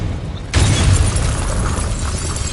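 A Confringo blasting spell bursts against a wall in Hogwarts Legacy: a sudden loud explosion after a brief quiet lead-in, with crumbling, shattering debris rumbling on afterward.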